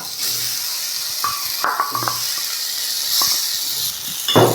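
Small pieces of ripe banana are dropped into a hot pan for a banana and cucumber curry, giving a steady close sizzle and hiss with occasional clinks of a utensil against the pan.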